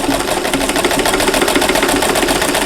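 Steady rapid whirring of a sewing machine stitching a small Christmas mug rug with a very short stitch length, loud and close, continuous throughout without talk.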